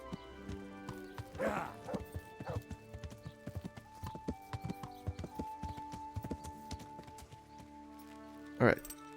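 Horse hooves clip-clop in an uneven rhythm alongside game music in Kingdom Come: Deliverance, with a couple of louder neigh-like bursts standing out.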